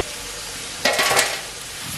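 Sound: stirring sautéed tomatoes with mint and coriander for chicken biryani

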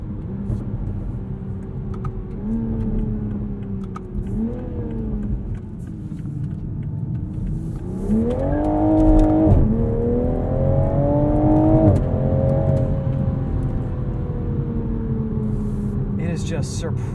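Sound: sports car engine accelerating

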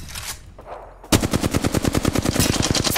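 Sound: gunfire in a video game (Apex Legends ranked match)

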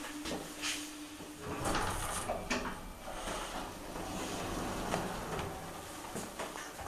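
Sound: Brinkman elevator door opening

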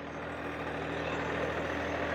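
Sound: tractor running in fourth gear while ploughing

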